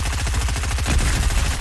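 Rapid automatic gunfire from a mini weapon in an online shooter video game, a dense, steady burst of shots firing in quick rhythm, loud and close for the whole stretch.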